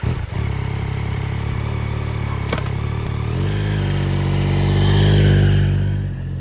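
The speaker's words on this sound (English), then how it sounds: "This is the all-new Yamaha MT09 Y-AMT." A 2024 Yamaha MT-09 Y-AMT motorcycle engine idles with a deep, steady throb, then revs up, its pitch climbing and holding loud before easing off.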